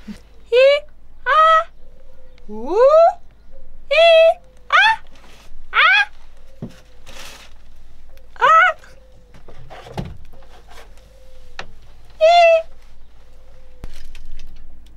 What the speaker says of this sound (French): Il y a des poules? Qu'est-ce qui se passe là? C'est des pigeons.